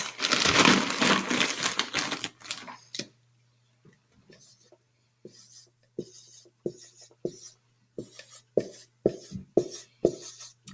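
A marker taps ten dots one after another onto a board during a math lesson on even and odd numbers, each a crisp separate tick in an uneven rhythm following an opening stretch of louder rustling.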